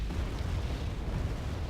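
Artillery barrages in the war strategy game Wargame: AirLand Battle roll as a dense, continuous low rumble of overlapping explosions, steady and fairly loud with no distinct gaps.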